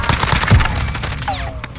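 Rapid gunfire in the video game Warzone, fairly loud and close, a dense cluster of shots in the first half followed by scattered cracks and game effects.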